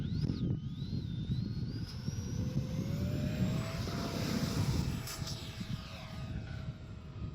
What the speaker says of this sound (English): Love that afterburner